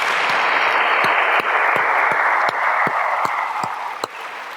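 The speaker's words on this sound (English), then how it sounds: "give a big round of applause to all these men and women that leave everything behind to help fellow citizens" An audience gives a sustained round of applause, a dense even patter of many hands that holds steady for several seconds before easing off slightly at the end.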